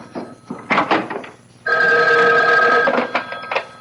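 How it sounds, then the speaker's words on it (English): An old-fashioned telephone bell rings loudly and close in a radio drama scene, a sustained metallic trill of about a second that follows a few soft knocks and handling noises, with no talking. "Excuse me, that's my phone."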